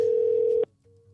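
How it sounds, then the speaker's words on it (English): An outgoing phone call's ringback tone: a loud, steady electronic tone holds for about half a second, cuts off abruptly, then returns much fainter and sustained. "Calling James"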